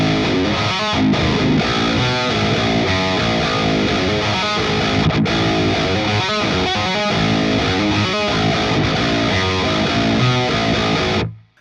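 Electric guitar played through an EVH 5153 amp on its high gain setting, a dense, saturated metal riff with tight palm-muted chugs, loud and continuous before cutting off at the end.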